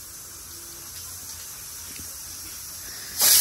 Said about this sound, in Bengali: তো দেখতেই পাচ্ছ দুটো সিটি দিয়ে দিয়েছে কুকারে